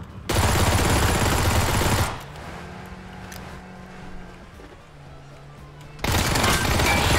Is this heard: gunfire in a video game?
yes